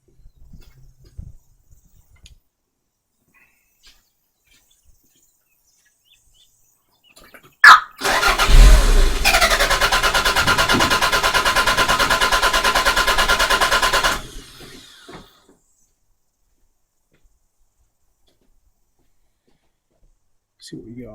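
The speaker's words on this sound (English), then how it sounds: "I'm going to keep cranking and see if we continue to get a signal." A Toyota MR2 engine cranking without catching: a sharp click, then about six seconds of steady, even starter whirring that stops abruptly, with quiet surroundings before and after.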